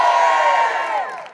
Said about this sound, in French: Une bonne main d'applaudissements. Applaudissez-vous aussi.